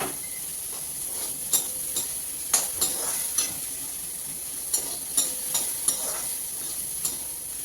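Okra and carrot sizzle gently in a hot pan while a utensil stirs and scrapes at irregular moments, with a steady hiss underneath.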